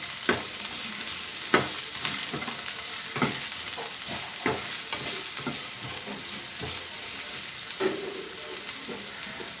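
Onion pieces sizzle steadily in oil in a pan for egg rice, with sharp scrapes and taps of a stirring spoon scattered throughout, close and alone without any talk.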